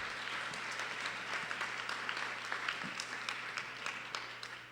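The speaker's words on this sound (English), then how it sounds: "So maybe a round of applause for everybody that helped tonight." Audience at a school board candidate forum gives a round of applause, steady moderate clapping with a few distinct sharper claps standing out over a constant low hum.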